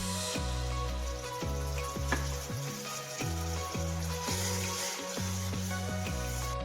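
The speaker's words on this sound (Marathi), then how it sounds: "आता मी अद्रक लसूणची पेस्ट टाकते" Ginger-garlic paste hits onion, tomato, green chilli, bay leaf and spices frying in oil, a steady close sizzle with soft stirring scrapes, under a repeating low tonal background pattern and no talking.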